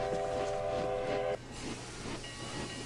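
A steam locomotive from Back to the Future Part III: a steady rail rumble and hiss, with a sustained whistle-like tone over the first half that cuts off, then continued track noise and steam.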